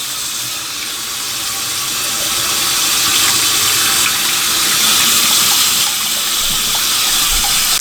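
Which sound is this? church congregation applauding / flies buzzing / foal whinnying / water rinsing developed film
water rinsing developed film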